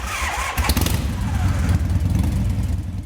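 A motorcycle engine starts and revs up, a loud close rumble that rises and settles into a steady throbbing idle for a few seconds, with a brief thin whine early on.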